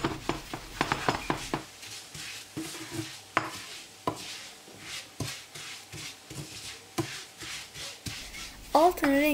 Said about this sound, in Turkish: Bir bardak şehriyeyi yaklaşık bir yemek kaşık tereyağı ile tavaya oyuyorum, kavuruyorum, karıştırarak yakmadan.